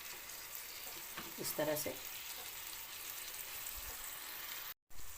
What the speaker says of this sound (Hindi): अब इस साइड से भी मैं कबाब्स को 6 मिनट के लिए कुक होने दूँगी